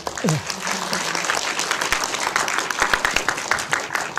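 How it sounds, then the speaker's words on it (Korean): Audience applause after a film screening talk for the 1968 Korean film, dense clapping filling the room steadily for several seconds, with a brief voice murmur near the start. "이렇게 좋은 말씀 많이 해주신 최영원 감독님께 다시 한번 큰 박수 부탁드립니다."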